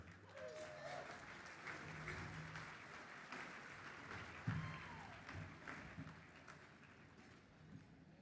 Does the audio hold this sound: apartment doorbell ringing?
no